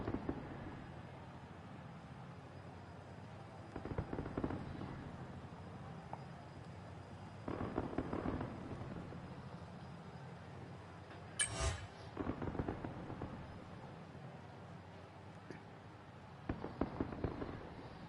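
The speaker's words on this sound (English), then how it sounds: "Oh, that's fireworks down here." Fireworks go off in the F1 24 racing game after the Monaco Grand Prix, faint and distant: scattered muffled bursts and crackles spread across the stretch, with one sharper, brighter pop near the middle.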